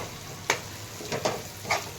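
A quiet tempering sizzles in a pan on a low gas flame for stuffed ridge gourd, a soft hiss broken by about four sharp crackling pops.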